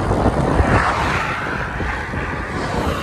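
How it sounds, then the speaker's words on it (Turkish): Strong wind roars and buffets continuously against the microphone while bicycle touring between Bandırma and Karacabey, Turkey, a dense low rumble mixed with road noise, with no voices. "Ön sağdan çok rüzgar var."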